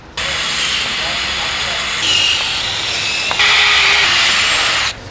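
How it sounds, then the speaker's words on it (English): A power drill pre-drills holes in an aftermarket front splitter clamped to a Kia Cerato GT sedan, giving a loud, continuous hissing whir that shifts pitch in a few stages over about five seconds, with no one speaking. "we can now pre-drill all of our holes."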